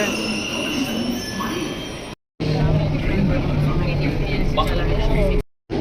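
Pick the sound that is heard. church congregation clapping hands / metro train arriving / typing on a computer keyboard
metro train arriving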